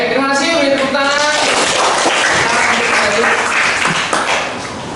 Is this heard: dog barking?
no